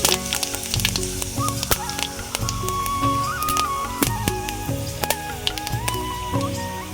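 Dried chilli, whole cumin and a bay leaf sizzling in a small amount of hot oil, a loud close crackling fry with sharp pops and spits throughout.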